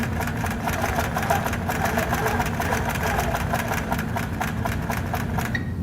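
A Grace Company Cruise quilting sewing machine stitching at speed, a steady fast mechanical chatter of needle strokes with a low motor hum underneath, continuous and close.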